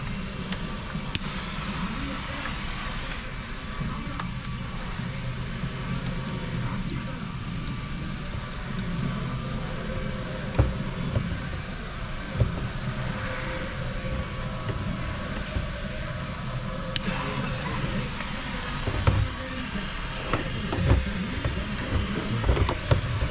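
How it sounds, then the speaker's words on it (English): Welding on a Cadillac fog lamp part: a steady broadband hiss and crackle runs throughout, with occasional sharp pops and snaps rising above it, fairly close. "Keeping the part in place while you do the weld."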